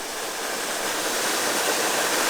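Cold spring water pours out of a limestone bluff near an old mill on Missouri's Current River, making a steady, close, full rushing roar that stays even throughout with no voices.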